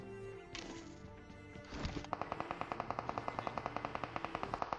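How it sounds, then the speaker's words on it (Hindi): Rapid automatic gunfire from a mobile shooter game, a steady run of evenly spaced sharp shots following some game sounds, loud and continuous with no talking. "ये आ गए खतरनाक वाले फायरिंग साउंड"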